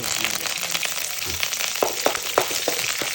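Urad dal and dried red chillies crackle and sizzle in hot oil in a pan, with bright popping bursts over a steady frying hiss, heard up close.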